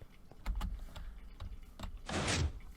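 A redstone-powered invisible door in Minecraft slides open with a bright mechanical swish near the end, after a few soft clicks and taps, fairly loud against a quiet background.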